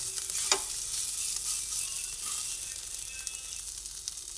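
Chicken frying in a pan while being stirred, a steady close sizzle with one sharp scrape of the utensil near the start and soft stirring movements after it.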